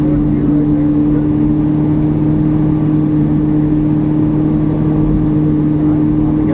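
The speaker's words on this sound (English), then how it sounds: "here you can start to accelerate, so you want to get on the gas a little bit, leave it in 3rd gear, a little more gas" A Ferrari 458 engine drones steadily, held in third gear with light throttle on a small speedway, its mid-pitched hum loud and constant beneath an instructor's talk throughout.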